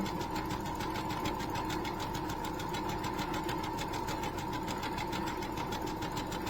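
A sewing machine runs steadily and close up while stitching a quarter inch seam, its fast even needle rhythm humming and clattering without a break.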